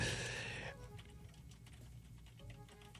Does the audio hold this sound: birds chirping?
no